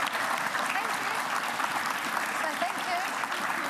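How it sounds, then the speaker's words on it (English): Audience applause fills the whole stretch, a dense, steady clapping from a crowd at an indoor event, with a few faint whoops and voices mixed in. "Give them a round of applause, everyone."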